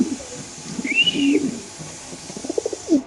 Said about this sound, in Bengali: সবজি রেসার কবুতর মাশাআল্লাহ খুব সুন্দর বড় সাইজের।